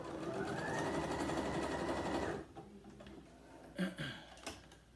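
Sewing machine stitching a seam in fake fur fabric: a close, steady mechanical whir for about two seconds, then it stops, followed by quiet handling clicks and rustles.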